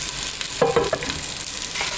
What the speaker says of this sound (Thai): แค่ค่อยๆผัดไปเรื่อยๆให้ตัวของโรสแมรี่มีกลิ่นหอมแล้วก็ให้ตัวของหอมเนี่ยเขามีความใส